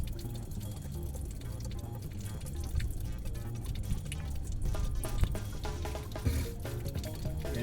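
Water draining out of an RV's fresh water tank, a continuous low gushing and trickling pour that runs steadily without talk.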